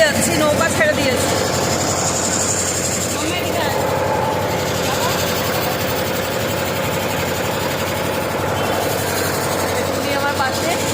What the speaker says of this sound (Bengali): আমাদের নৌকায় যাচ্ছি, নৌকা ছেড়ে দিয়েছে